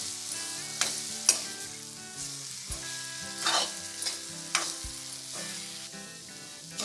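Semolina roasting in ghee over a low flame for Satyanarayan prasad sheera, with a spoon stirring through it in repeated scrapes over a soft, steady sizzle. Background music plays throughout, and no one speaks.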